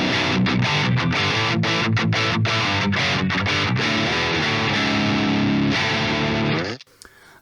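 Loud, heavily distorted electric guitar played through a Marshall Origin 20 amp, chords ringing and chugging continuously before cutting off abruptly near the end.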